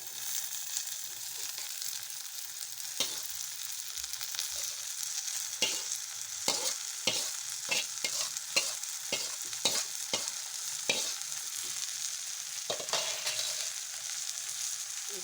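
Cluster beans (chavalikai) stir-fried in a pan, a soft steady sizzle broken by repeated sharp scraping and clinking strokes of the spoon, close and fairly quiet with no talk.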